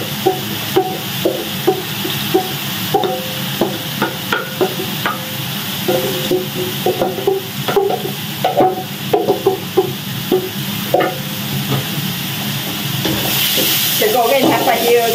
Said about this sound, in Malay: Kita goreng sampai dia garing ni.